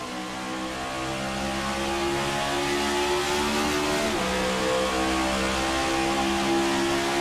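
An onboard race car engine in the iRacing game at Pocono Raceway drones loud and steady, holding a high sustained pitch with a slight shift partway through, heard alone with no talk.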